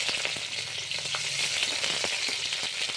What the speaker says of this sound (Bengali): তেল গরম হয়ে গেছে, তেলে ফোড়ন দিয়ে দিচ্ছি তেজপাতা আর জিরে